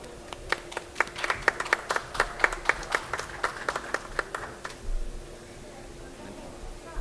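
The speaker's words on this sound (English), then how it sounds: "please give a round of applause to Chairperson Ja Nam-soo of the Jeju Specia" Scattered clapping from a small conference audience at a climate summit pavilion session, a few distinct, separate claps that stop after a few seconds and leave a quiet room.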